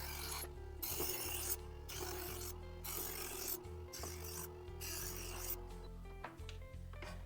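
A serrated kitchen knife is drawn through the coarse, fine and polishing slots of an electric knife sharpener, giving repeated rasping strokes separated by short pauses over a steady motor hum, close and loud.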